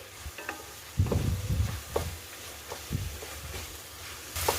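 Tomatoes and asafoetida frying in a pan for dhaba-style dal fry, a low steady sizzle with a few soft stirring scrapes and clinks, close and alone.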